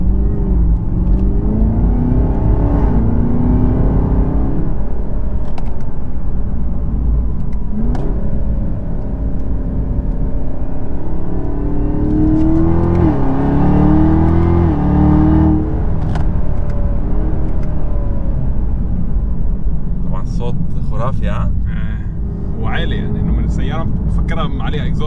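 A supercharged V8 in a 2019 Chevrolet Camaro ZL1 rumbles and revs steadily through its exhaust, rising in pitch in surges, with someone talking over it throughout and a burst of sharper clicks near the end.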